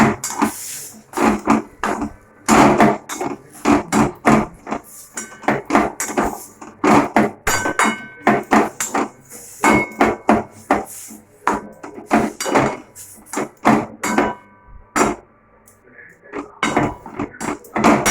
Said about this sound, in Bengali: এটাকেও দিয়ে ভালো করে আমাদের মিশিয়ে নিতে হবে।